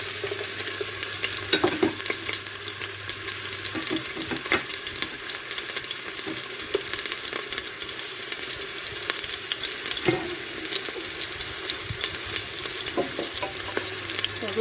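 Diced onions and garlic frying in a pot for potato porridge, a constant close sizzle with scattered stirring clinks and scrapes throughout.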